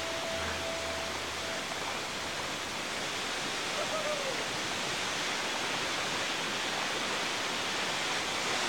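A waterfall in Madagascar, home to many frogs, pours in a dense, continuous rushing roar that stays steady throughout, with a brief faint tone early on.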